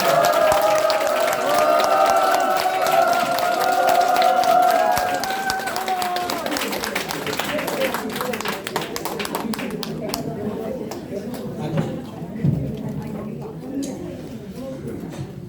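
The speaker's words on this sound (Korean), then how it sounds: "여러분 힘찬 박수 부탁드리겠습니다" An audience at a press conference applauds as a party leader enters, a sustained patter of claps heard first under an announcer's voice and then continuing on its own, loud and close.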